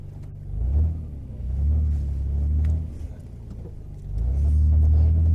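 A 1999 Nissan Skyline R34 GTR V-Spec N1 is driven, its engine giving a deep rumble that swells and eases in several surges as it pulls along.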